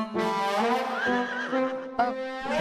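A horse neighs in a loud, close whinny lasting a couple of seconds, with a shorter second call near the end, in a children's fantasy drama setting.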